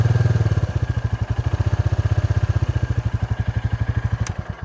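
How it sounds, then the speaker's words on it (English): A Royal Enfield Classic 350 motorcycle idles with a steady, even thump from its single-cylinder exhaust, loud and close, pulsing regularly throughout with no talk over it. "It's such a subtle but pleasing exhaust note."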